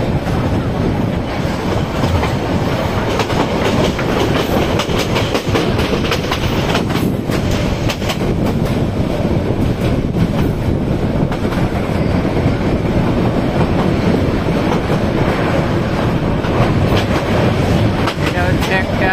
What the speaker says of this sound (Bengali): মানে ট্রেন এখন ছুটে চলবে।